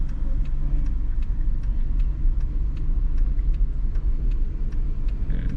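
A car engine idles and rumbles at low speed during a three-point turn on a Florida driving test, a steady close drone from inside the cabin with faint regular ticking, likely the turn signal.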